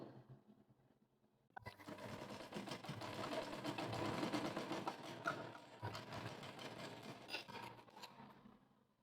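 Sewing machine stitching white thread along a folded fabric edge, starting after a brief quiet moment and then running steadily with a dense, continuous mechanical whir and needle chatter, close and alone.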